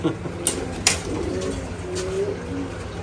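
Soft pigeon coos murmur through the clip, with a couple of sharp clatters and light rustling nearby.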